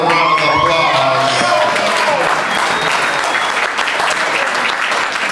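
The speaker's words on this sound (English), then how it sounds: "let's give our best man another round of applause" Wedding guests applaud the best man in a loud, dense burst of clapping from a crowd indoors, with a few whoops and a voice briefly heard at the start, continuing steadily to the end.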